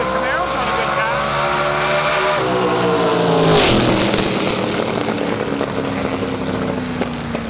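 Fox body Mustang and a 1969 Camaro launching side by side down a drag strip, loud roaring engines rising in pitch as they pull away, one car briefly unsettled, with crowd and track noise around.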